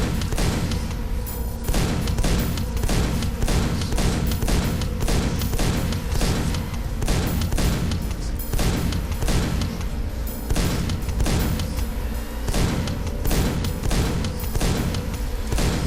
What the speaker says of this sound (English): I'm going to just pelt him with the shotgun instead, because he's out of range and I can just sit there and snipe him